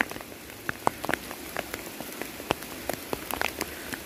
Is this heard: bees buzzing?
no